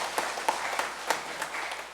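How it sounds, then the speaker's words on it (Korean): A church congregation at an ordination service in Gwangju claps together, a soft, steady patter of many hands with a few sharper individual claps rising above it, moderately distant. "우리 박수 한번 쳐요"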